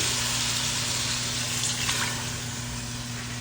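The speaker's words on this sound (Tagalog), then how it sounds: "Saka tayo maglagay ng tubig." Water poured into a pan of chicken cubes simmering in tomato sauce gives a steady, soft rushing hiss over a low constant hum, with no talking.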